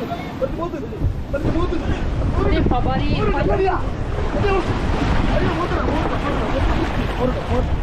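A boat ride on the open sea off Kovalam beach in Kerala: steady roar of wind, surf and waves with a motor rumble throughout, while voices talk over it.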